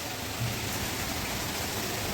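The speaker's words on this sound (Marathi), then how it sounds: "पाऊस बघा काय पडतंय मंडळी जोरदार पाऊस आहे बघा" Heavy rain pours down in a dense, steady, unbroken hiss, loud and constant throughout with no voices.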